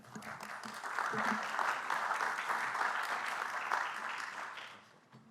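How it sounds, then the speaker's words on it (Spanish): Audience applause welcoming a civil court judge at a legal lecture on civil eviction proceedings, a steady wash of many hands clapping that swells and holds for several seconds before tapering off. "Lo recibimos con un fuerte aplauso, por favor."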